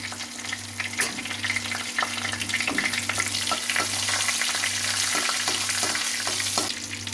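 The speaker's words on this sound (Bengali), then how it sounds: "এখন দিয়ে দিলাম তেজপাতা শুকনো লঙ্কা এবার হালকা হাতে আমি নাড়ি ছড়িয়ে নেবো" Bay leaves and dried red chilies crackle and sizzle in hot oil, gently stirred, for a continuous, close, fairly loud fry with scattered pops and light utensil scrapes over a low hum.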